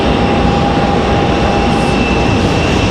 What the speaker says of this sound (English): Iceland back to Reykjavik, taxiing out.